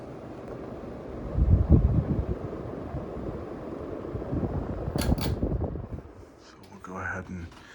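A ceiling fan runs in a house room as a soft, steady whoosh of moving air, with faint handling noises and a few brief clicks partway through.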